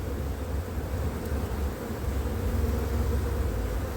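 Bees swarming over a rooftop near a beehive during a colony move, producing a steady, dense buzzing drone that holds at even loudness throughout without any voices.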